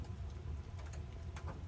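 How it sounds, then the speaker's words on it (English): Rain falls steadily outside an RV, a soft continuous patter with a low rumbling undertone, fairly faint and with no voices. "I hope this rain quits soon."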